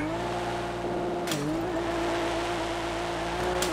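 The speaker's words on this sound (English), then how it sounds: "We it's time for some drifts" Tires squeal in a sustained, steady whine over a continuous car engine while a car drifts in the GTA video game, played on a steering wheel, with one brief dip and scrape partway through.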